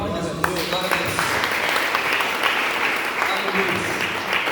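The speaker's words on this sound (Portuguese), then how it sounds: "Uma salva de palmas para Jesus." Congregation applause at a church service, a continuous wash of clapping with murmured voices and faint calls mixed in throughout.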